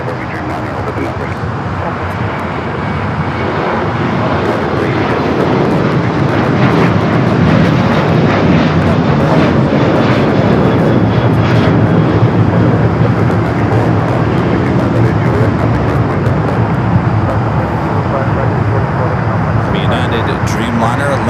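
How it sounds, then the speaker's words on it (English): A Boeing 787 Dreamliner lands on the north side at LAX, its engines making a loud, sustained roar with steady broadband rumble throughout. Voices talk over it. "Dreamliner landing there on the north side heading to Terminal 7"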